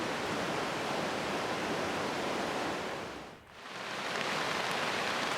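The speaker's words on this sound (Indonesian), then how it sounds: "akhirnya hujan deras pun datang" Heavy rain pours down in a tropical rainforest, a dense, loud, unbroken hiss that briefly dips to near silence midway before returning at full strength.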